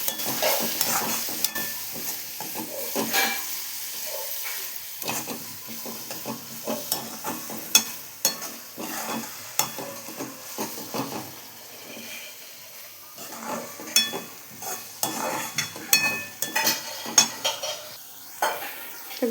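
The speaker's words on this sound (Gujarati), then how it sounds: "હવે આને બરાબર પહેલાં મિક્સ કરી દઈશું આપણે" A spoon stirs spices for a kaju gathiya curry in a hot pan, giving repeated scraping strokes over a steady sizzle, close and fairly loud with irregular sharp clatters.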